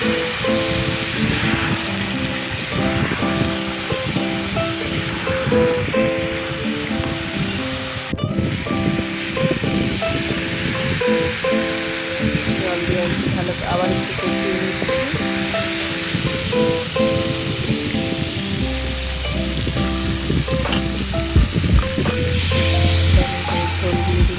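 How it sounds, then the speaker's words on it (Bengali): Water poured into a hot pan of curry cooking with taro and snakehead fish hisses and sizzles in a loud, steady, continuous crackle that runs on alone throughout. "হয়ে গেছে এবার আমি জল দিয়ে দিলাম"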